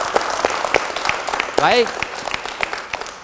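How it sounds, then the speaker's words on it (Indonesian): An audience applauding at the close of an Indonesian televised management dialogue, a brief burst of clapping beneath a host's talking. "Untuk itu kita beri tepuk tangan sekali lagi."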